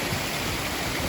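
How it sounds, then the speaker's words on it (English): An artificial waterfall in Central Park, New York, gives a steady, full rush of falling water, close and continuous with no voices over it. "I love the sound of water in the morning."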